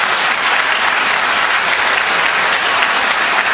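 Steady, loud applause from an audience at a mushaira poetry gathering in Bahrain, continuous dense clapping with no talk over it.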